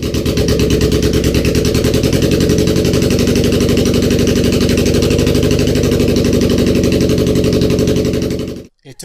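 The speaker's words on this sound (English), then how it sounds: "I started it without the exhaust, so this might be a little loud" A Subaru engine runs without its exhaust fitted after a timing belt job, a loud, raw, rapid clattering idle that continues steadily and then cuts off at the end.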